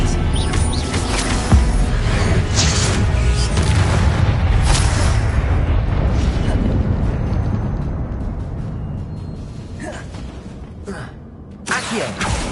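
Confringo blasting spell in Hogwarts Legacy, a sustained rumbling blast of magical explosions followed by a sharper crack near the end, loud and close, with little speech.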